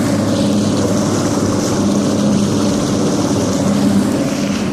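A motorboat idles slowly along a river through a no-wake zone at about 4.7 mph on a windy day, its engine giving a steady, continuous low drone with water wash, loud and unbroken throughout.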